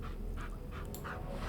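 A dog in the video game Dragon Age: Origins whimpers in three short, plaintive whines, spaced about a third of a second apart, over a steady low background hum.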